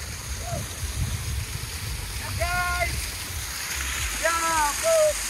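A village waterfall rushes as a steady broadband wash of falling water, with a voice talking and calling over it and brief whistle-like tones cutting through.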